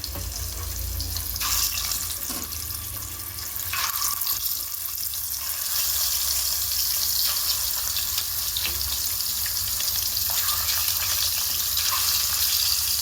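Small netthallu fish are rinsed in water in a kitchen, with continuous running and splashing water throughout, close and moderately loud, and no talk.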